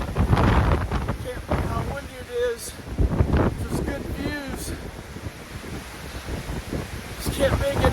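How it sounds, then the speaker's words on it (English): Steady wind buffets the microphone in a continuous rumbling roar while a person talks over it, on San Jacinto mountain along the Pacific Crest Trail. "Still so windy."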